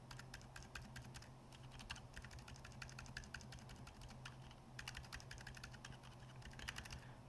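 Typing on a keyboard fitted with Gazzew Boba silent tactile switches (U4 silent tactile stems): a rapid, even patter of muted keystrokes, close and continuous, with no voice.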